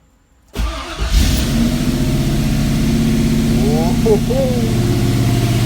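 A car engine fitted with Holley Sniper fuel injection cranks and fires for its first start, catching abruptly after near silence and settling into a loud, steady idle with slight revving, while a man exclaims over it.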